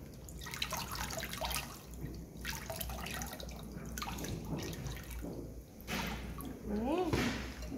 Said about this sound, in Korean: 개수대에 물 틀어서 얼른 헹궈주시면 돼요